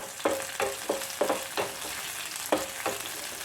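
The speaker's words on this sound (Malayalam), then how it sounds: "ആവശ്യത്തിന് കറിവേപ്പില ഇട്ടിട്ട് നമുക്ക് നന്നായിട്ടൊന്ന് വഴറ്റിയെടുക്കാം" Curry leaves are sautéed in a pan without garlic for a vadukapuli lemon curry. A soft sizzle carries evenly spaced stirring knocks and scrapes, close up and with no talking.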